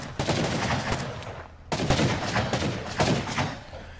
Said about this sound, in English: Dirt and his crew continue to provide covering fire from that raid tower